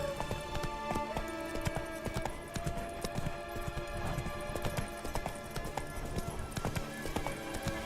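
Roach the horse gallops in The Witcher 3, with rapid rhythmic hoof clip-clops pounding continuously and fairly close over game ambience.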